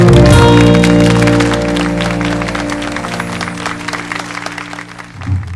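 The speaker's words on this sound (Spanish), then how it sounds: "Los tímidos aplausos para el señor de parte de sus colegas" A short burst of applause from colleagues, fairly loud at first and then thinning out, with a steady tonal hum running underneath.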